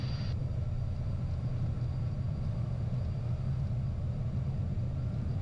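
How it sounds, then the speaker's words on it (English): Private jet engines at takeoff thrust during the takeoff roll, a steady loud low roar and rumble filling the cabin, continuous and even throughout. "Takeoff thrust is set and achieved."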